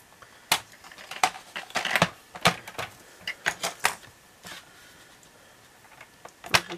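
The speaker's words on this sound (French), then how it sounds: "Donc je vais couper ce papier." Scissors or a blade cut through shimmering white paper for a handmade greeting card, giving a run of crisp, uneven snips and crunches, close and clear with no talking.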